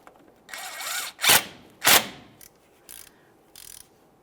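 A power tool snugs up a mounting bolt, giving two sharp, loud mechanical bursts with a few softer whirring and clicking passes around them, close up.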